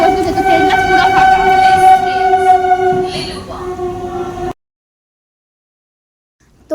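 Inside a nearly empty passenger train, a loud rumbling ride carries a sustained tonal whine for several seconds, then cuts abruptly to silence before a brief burst of sound returns at the end.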